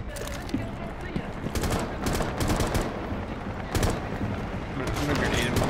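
Rapid automatic gunfire in Rainbow Six Siege on the Border map, dense loud bursts of rifle shots running almost continuously, with players talking over them.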